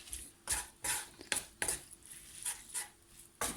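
Wooden spoon stirring a mixture in a pot, a series of soft, irregular scraping knocks roughly every half second, fairly faint and close.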